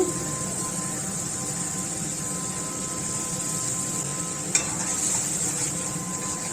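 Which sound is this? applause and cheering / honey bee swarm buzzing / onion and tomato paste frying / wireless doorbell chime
onion and tomato paste frying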